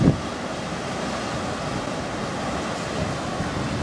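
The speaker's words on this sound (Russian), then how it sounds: "Волны бушуют. Море волнуется." Stormy sea waves near Novorossiysk roar as a steady, loud wash of surf mixed with wind buffeting the microphone, continuous with no speech.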